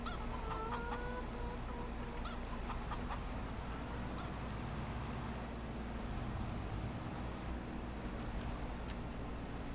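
Chickens in Farming Simulator 25 cluck in short, scattered bursts over a dense, steady background of farm ambience, moderately near and continuous.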